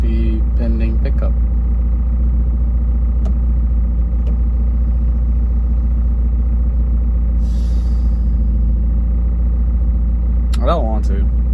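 A Mazda Miata drives on the road with a constant low engine and road drone filling the clip, a faint brief sound near the end.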